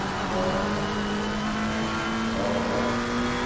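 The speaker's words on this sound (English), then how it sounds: "McLaren, which Shane says is in real life the best sounding car out of the GT3s he's seen." A McLaren GT3 race car engine drones steadily at high revs in Assetto Corsa Competizione, a loud, continuous tone with a slowly rising pitch and no talking.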